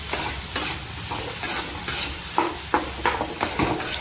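Jackfruit curry frying in oil in a pan, a steady close sizzle broken by repeated scraping stirs in an uneven rhythm, with no voices.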